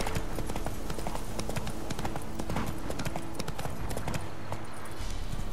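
Horse hooves clip-clopping steadily in The Witcher 3: Wild Hunt, a continuous rhythmic trot under dense game ambience and some low voice chatter.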